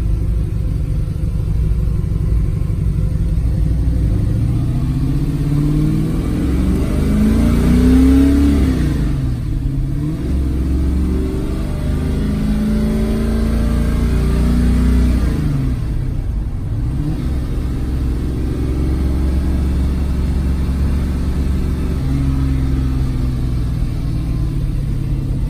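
A car's engine runs steadily throughout a test drive, a continuous low rumble with two brief swells as it revs through the gears, no talking over it.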